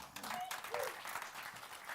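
A church congregation applauds during a worship service, giving a brief, soft patter of clapping beneath a faint voice.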